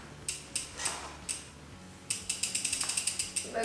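A ratchet tool clicks while threading a pedal onto a Canyon Spectral 6.0 mountain bike, first in spaced single strokes and then in a fast, even run of ratcheting ticks, close and fairly loud, with no talk.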